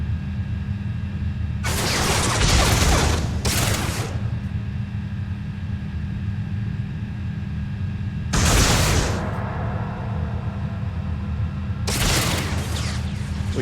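Gunfire in Starfield with a Star Wars mod, three separate loud bursts of blaster-like shots, each lasting a second or two, over a steady low hum.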